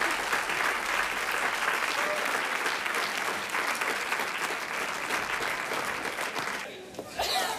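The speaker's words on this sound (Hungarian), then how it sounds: "és a taps is jár neked" Sustained applause from a concert audience after a young performer's Bach suite performance at a music competition semifinal, loud and dense for several seconds before tapering off at the end.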